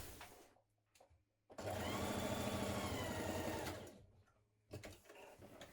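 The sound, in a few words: sewing machine stitching shoulder seams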